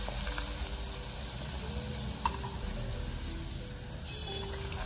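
Methi masala puri, a fenugreek-leaf puri, frying in hot oil over a high gas flame, giving a steady close bubbling sizzle with one brief sharper crackle midway.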